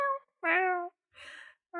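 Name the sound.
person imitating a cat meow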